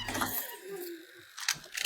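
A bunch of keys jangles and clicks in the lock of a cabinet door in a Stephen King horror film, a short, faint metallic rattle followed by a sharper click near the end, over low background noise.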